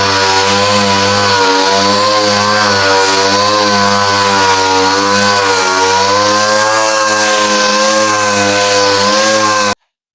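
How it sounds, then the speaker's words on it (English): Loud, steady power-tool whine with strong harmonic drone runs without pause for nearly ten seconds as a faded car headlight is sanded with sandpaper to an even haze, then cuts off abruptly. "You want to sand until you have a nice even haze across the entire headlight."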